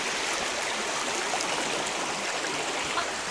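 A clear mountain stream flows steadily, a dense, even rush of water that stays close and constant throughout with no voices.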